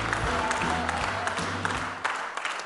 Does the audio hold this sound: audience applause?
yes